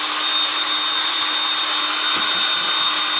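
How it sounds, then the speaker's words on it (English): A power drill fitted with a spade bit spins in mixing resin, giving a loud, steady high-pitched whine that holds constant throughout, with no talking. "I'm going to use my drill and my spade bit."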